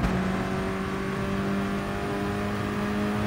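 A race car in Gran Turismo Sport holds a loud, steady, buzzing engine drone under throttle, continuous and close for a few seconds with no talking.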